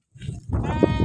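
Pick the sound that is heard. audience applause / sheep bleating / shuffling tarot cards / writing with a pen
sheep bleating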